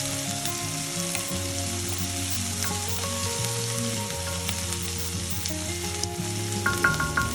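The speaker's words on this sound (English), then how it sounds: "let this cook for a little bit till the onion browns slightly" Onion and chili mix frying in a pan, a continuous close sizzle with a steady crackle and occasional light scraping, with a low hum underneath and no talking.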